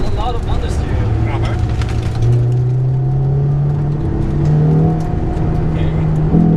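A short, light BMW circling an autocross skid pad at Lime Rock Park hums with a steady engine drone that rises gradually in pitch, close and continuous, while people talk inside the car.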